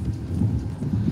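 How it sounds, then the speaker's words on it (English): Horse hooves clip-clop steadily on a street in Red Dead Redemption 2, a continuous, moderately loud walking rhythm of muffled, low hoofbeats. "Oh, here's my horse. I got my horse back."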